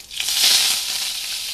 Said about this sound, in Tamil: சுண்டக்காய் வத்தல் இது 3ஐயும் நீங்கள் போட்டு தாளிச்சிடணும்.